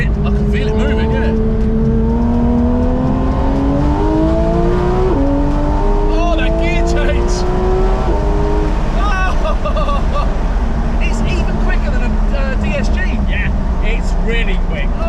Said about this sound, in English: PDK box is just stunning. It sounds like a race car.